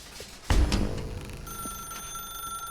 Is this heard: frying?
no